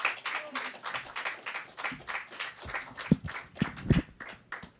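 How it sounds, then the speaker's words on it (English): Audience applause for a poet at a live reading, a scattered patter of claps that thickens into a few louder bursts near the end, with some voices mixed in. "Everybody give a warm round of applause."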